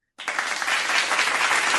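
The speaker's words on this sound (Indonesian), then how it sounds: "mari kita tepuk tangan buat semuanya" Applause from a crowd starts suddenly after a brief silence and continues as a steady, dense wash of clapping.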